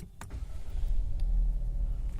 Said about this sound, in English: let me just switch on the car right now